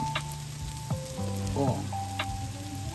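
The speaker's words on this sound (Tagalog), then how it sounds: "Bayaan natin siya mag-caramelize. Ating mga onions na yan. At saka garlic" Onions and garlic sizzle as they caramelize in a pan for eggplant pasta, a steady close frying crackle with a few brief stir or clatter sounds.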